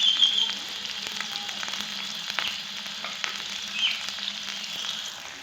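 Onions frying in hot ghee in a pan, a steady close sizzle with light crackles and occasional stirring scrapes, no voices.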